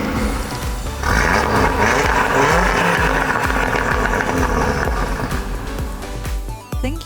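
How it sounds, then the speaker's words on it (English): An Audi Sport S or RS engine in dynamic mode with exhaust valves open revs up hard, a loud aggressive roar swelling after the first second and holding for several seconds before cutting out briefly near the end. "You will now activate the dynamic driving mode, which opens the exhaust valves and delivers a more aggressive Audi Sports engine"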